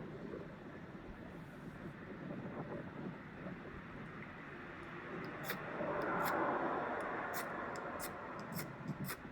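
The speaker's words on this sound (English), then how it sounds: "This wind is driving me crazy." Wind blows outdoors in a forest, a steady, low, rumbling rush across the microphone. It swells slightly midway, with faint light ticks scattered over the top and no voices.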